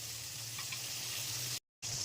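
Pointed gourds fry slowly in oil in a covered pan, giving a steady, close sizzle that continues alone, broken by a brief moment of silence near the end.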